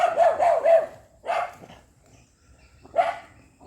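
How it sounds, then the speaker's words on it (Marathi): Dogs bark near a village vegetable patch: a quick run of three barks, then two separate single barks spaced about a second and a half apart, loud and close with quiet gaps between. "हे बघ कुत्रे आले बघ"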